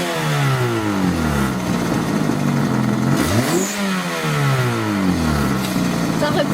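A Citroën Saxo with a sporty direct kit starts up already warm and is revved several times. The engine note rises and falls in repeated sweeps, loud and close, and no one speaks over it.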